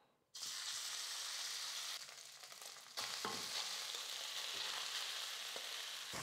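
Cooked rice stirred into hot ghee in a pan while making a sweet, giving a steady broadband sizzle with a short softer dip in the middle, then scraping stir sounds resuming close and loud, with no talking.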